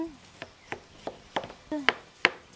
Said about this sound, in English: Slice our watermelon.